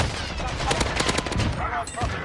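Rapid gunfire rattles through a Warzone match on Rebirth Island, a dense burst of sharp shots packed together over about a second, followed by quieter scattered reports amid game noise.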